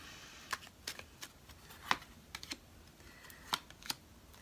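Tarot cards are handled and shuffled close by, giving light, irregular clicks and snaps at uneven intervals, fairly faint, with no voice.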